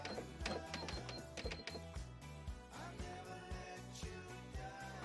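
A sewing machine runs a zigzag stitch along the back of a bra strap, its fast rhythmic mechanical clatter near and continuous, with a couple of quick bursts and small pauses.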